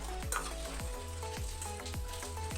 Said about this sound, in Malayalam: ഇത് തിളച്ച് വരാൻ തുടങ്ങിയിട്ടുണ്ട്.